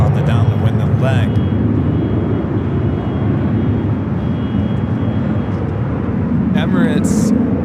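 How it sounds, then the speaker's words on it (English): A heavy Eva Air Boeing 777-300ER jet flying downwind near LAX gives a steady, continuous engine roar throughout, with voices talking over it. "That is Eva Air Flight 12 flying downwind. It's a 777-300ER coming in from Taipei."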